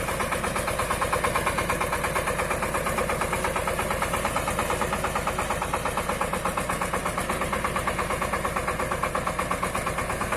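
A Shifeng 240 mini tractor engine running steadily while driving in third gear, a loud, close, rhythmic diesel chug with rapid even knocking pulses and no talk.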